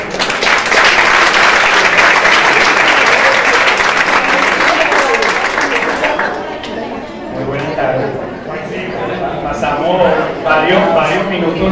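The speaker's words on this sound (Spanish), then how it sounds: "Un aplauso para él." A crowd at a national meeting of condominium boards gives a speaker a full, loud round of applause that fades after several seconds into murmuring chatter and a voice talking.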